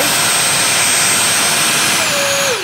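A Freewing F-16 V2 70mm electric ducted fan jet on a 6S setup screams steadily at full thrust close by, a loud continuous whine that holds level before its pitch starts dropping at the very end.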